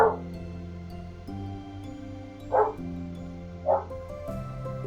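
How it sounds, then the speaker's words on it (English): Dogs fighting each other in a visual novel scene, a few sharp barks and yips spaced out over a soft background music bed. "Now my dogs are fighting each other."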